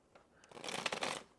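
A deck of Black Keys edition tarot cards is riffled and shuffled close to the microphone, a soft papery flutter that swells over about a second and then fades, quiet and alone.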